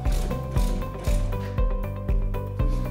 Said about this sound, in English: Put the new spring into the compressor tool.